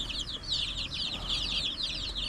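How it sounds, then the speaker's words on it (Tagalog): Chickens cluck in a steady, overlapping chatter, moderately close, over a faint background hum with no talking. "Ating mga manok."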